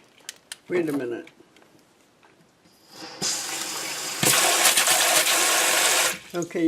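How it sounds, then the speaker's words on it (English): Water rushes from a newly installed kitchen faucet sprayer into a sink, starting as a steady hiss and then swelling into a louder, broader spray before cutting off near the end, with brief talk and clatter at the start. "you gotta have the faucet on for that to spray"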